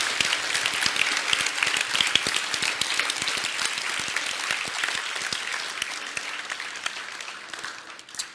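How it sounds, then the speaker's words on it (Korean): Congregation applause at a church testimony service fills the space for the full stretch, a dense, steady wash of many hands clapping that fades slightly toward the end. "하나님께 영광의 박수 올려드립니다."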